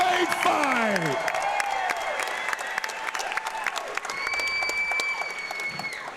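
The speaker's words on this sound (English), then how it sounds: "one more round of applause for a great fight" Audience applause and scattered cheering at an amateur fight night after a three-round 110-pound bout, filling a hall with steady clapping under a ringing tone and an announcer's voice.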